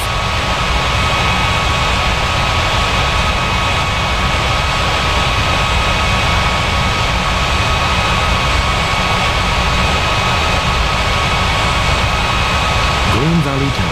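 Airliner jet engines drone during taxi in a flight simulator at Campinas airport, a constant loud, even whine and rumble with a steady tone, while a voice on the radio gives tower instructions.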